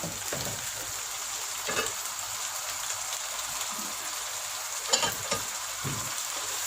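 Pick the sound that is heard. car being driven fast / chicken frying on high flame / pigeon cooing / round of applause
chicken frying on high flame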